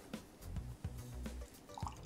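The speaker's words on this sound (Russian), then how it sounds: "Наливаем." Beer being poured from a 0.45 l bottle into a glass, a quiet wet dribbling and splashing with small drips, close by.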